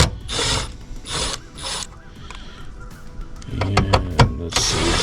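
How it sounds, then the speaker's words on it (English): Screws being backed out of the control board cover on a Dometic heat-pump air conditioner, heard as bursts of ratcheting, grinding turns, then a run of sharp clicks and taps, close and moderately loud. "So there's two screws that hold that cover on. We're going to take them screws out."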